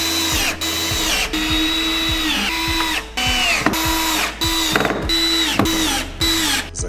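A power screwdriver drives self-tapping screws from the fittings kit into the footboard ends of a 160x200 lift-up bed frame, with repeated whirring bursts and short pauses between screws, close and loud.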